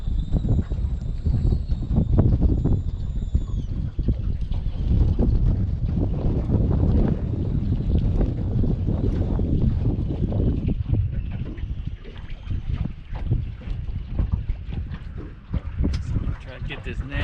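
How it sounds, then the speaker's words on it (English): Strong wind buffeting the microphone outdoors on a boat, a loud continuous low roar throughout, with a voice partly buried under the rumble. "Wind is making stuff miserable."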